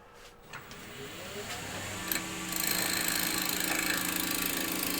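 A cherry wood box spins on a woodturning lathe, its motor hum rising before a spindle roughing gouge bites in, giving a steady, close, rough cutting whir for the last half.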